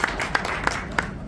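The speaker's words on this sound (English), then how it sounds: "give yourself a big round of applause." A small audience at a Hong Kong lunch event gives a brief round of applause, with a few distinct rhythmic clap bursts heard from a short distance.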